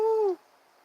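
Human voice imitating a dove's coo, a single short hooting tone that slides slightly downward, close and alone.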